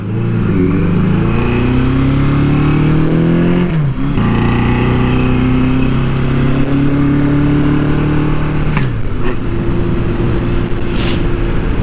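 Suzuki GS850 scrambler motorcycle engine running on 93 octane fuel, revving up and down in several loud close swells with rising and falling pitch and brief throttle blips, no talking.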